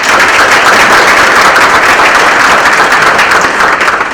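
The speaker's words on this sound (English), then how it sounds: "If we give him a round of applause." Loud, sustained applause from an audience at a Hispanic Heritage breakfast event, dense clapping from many people filling the whole stretch with no pauses and no talking.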